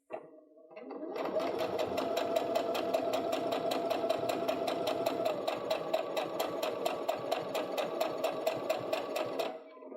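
A sewing machine stitches a quarter inch quilting seam in one steady run of fast, even needle clatter, starting after a brief pause and stopping abruptly near the end.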